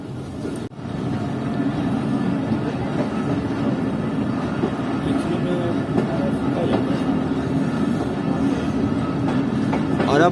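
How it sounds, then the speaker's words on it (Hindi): Chaman Passenger train pulling out of Gulistan railway station in Pakistan, a steady close rumble and rattle of rolling carriages that holds evenly from start to finish, with no speech over it. "तो ये तकरीबन 2 मिनट रुकने के बाद ट्रेन निकल रही है"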